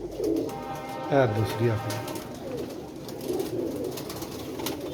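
A pigeon coos in a few soft, throaty bursts near the microphone while someone talks over it in the open air.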